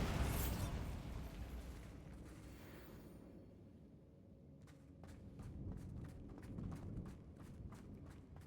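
A Bombarda explosive spell in Hogwarts Legacy bursts at the start and fades over a few seconds into a low rumble, followed by a quick series of light, running footsteps.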